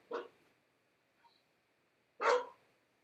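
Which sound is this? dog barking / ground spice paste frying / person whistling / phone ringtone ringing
dog barking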